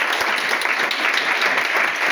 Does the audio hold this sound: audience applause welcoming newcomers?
yes